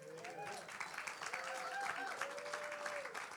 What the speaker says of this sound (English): See, even just her name gets applause.